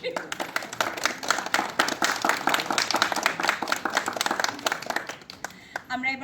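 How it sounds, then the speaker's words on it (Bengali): A studio audience claps together at a celebration for a Bengali television serial's 500th episode, a dense, steady wash of applause that thins out near the end. "তাই আপনাদের সবার আগে একটা জোরে হাততালি"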